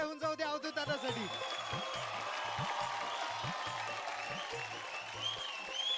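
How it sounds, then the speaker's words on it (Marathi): A TV dance show audience applauds steadily, a sustained wash of clapping under music with a rhythmic beat. "एकदा जोरदार टाळ्या होऊन जाऊ द्या अवधूत दादासाठी"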